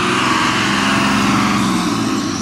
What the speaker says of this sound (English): Hold on, there's a loud truck.